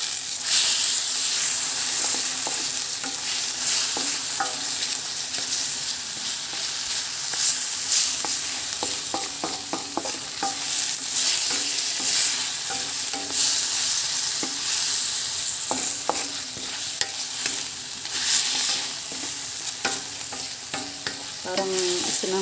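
Continuous sizzling from a kawali frying pan while the contents are stirred, with scraping clicks scattered throughout and a steady frying hiss under them, close and fairly loud.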